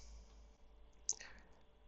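A single computer mouse click lands sharply midway through near-silence, quiet but distinct, with a faint low hum underneath.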